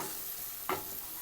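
Chopped onion sizzles steadily in a pan while browning, with a soft continuous frying hiss and one brief stirring scrape midway.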